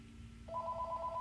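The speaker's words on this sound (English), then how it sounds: "got a phone call." A telephone rings with a steady electronic warble that starts abruptly and continues, faint under a low background hum.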